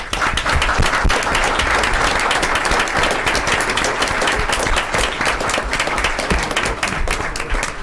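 Sustained applause fills a council meeting of Washington Township, dense steady clapping from a seated crowd holding even and loud throughout with no break.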